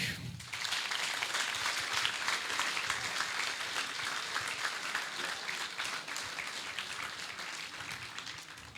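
Audience at a Mother's Day folk music afternoon gives performers a steady, fairly distant round of applause, continuous clapping lasting several seconds with no talk.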